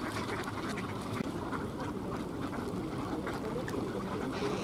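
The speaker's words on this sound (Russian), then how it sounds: "все быстрее собираются, крякают, выпрашивают еду" Ducks wintering on open water at Tsarskoye Selo gather and quack, begging for food, amid a dense, steady outdoor wash of water and wind noise with scattered calls throughout.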